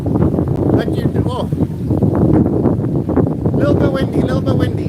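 Wind buffets the microphone in loud, gusty rumbles outdoors in Mauritius while people talk over it.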